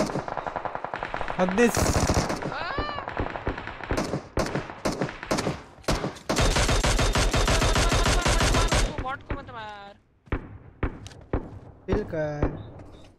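Gunfire in PUBG Mobile comes in loud bursts of rapid automatic fire, long sustained sprays and single sharp shots spread across the clip, with players talking briefly between the bursts.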